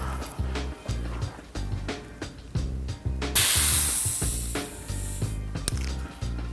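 Air hisses out of an RL2 suspension fork in a loud, sustained spray burst lasting a couple of seconds, close up, with softer mechanical clicks and knocks before and after it.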